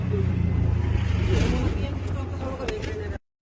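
An auto-rickshaw drives along a road near Jejuri with a steady low engine drone and passing traffic, the sound cutting off abruptly near the end.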